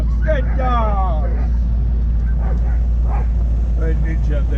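Excited Alaskan Husky sled dogs in summer training yip and bark in high, wavering bursts over a constant low engine rumble, with people talking nearby.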